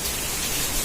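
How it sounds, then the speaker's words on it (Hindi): Heavy rain pours down in a dense, continuous hiss, with no breaks and no voices in this short stretch. "कितनी तेज बारिश हो रही है, इतनी बुरी बारिश आ रही है।"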